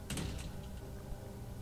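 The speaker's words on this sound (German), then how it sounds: "jetzt macht die Tür auf" A door opens in the horror video game Obscuritas, a brief scrape and creak at the start that fades into a low, steady ambient hum with no one talking.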